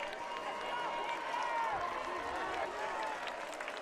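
A homecoming crowd at a high school football game makes noise in the stands, a distant, fairly faint wash of cheering and clapping under a commentator's voice.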